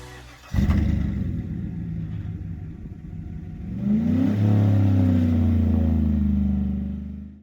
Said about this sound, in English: You've got the MBRP 3-inch XP series dual exhaust there